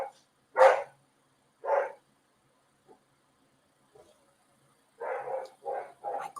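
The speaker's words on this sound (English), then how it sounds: "And he has such a deep bark that it sounds vicious." A golden retriever gives deep, loud barks: two separate single woofs near the start, then a quick run of three more close together at the end, with quiet gaps between.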